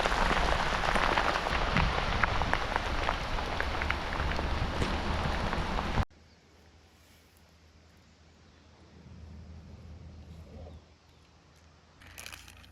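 Steady rain during the rainy season in Peru hisses loudly on surfaces for about six seconds, then cuts to a much quieter patter and light rustle with faint wind, with no talk.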